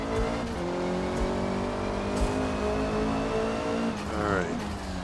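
Honda #73 Civic race car in Forza Motorsport at the Nürburgring, its engine droning loud and steady with shifting harmonics, climbing in pitch near the end as it accelerates; a voice talks over it.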